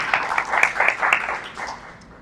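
An audience applauds for Cedar Barrows, a former mayor of Colmar Manor, at a Black History event; the clapping is moderately loud and fairly short, rising briefly before thinning out and fading toward the end.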